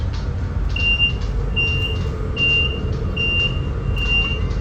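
A repeating high electronic alarm beeps five times at a steady rhythm over the low rumble of a moving Le Shuttle train carriage.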